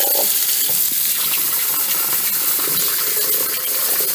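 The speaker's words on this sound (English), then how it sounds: "Try to rinse until it comes a little clear" Hot tap water gushes steadily into a sink while embroidery floss dyed with Easter egg dye is rinsed under it, a continuous close hiss and splash with no voices.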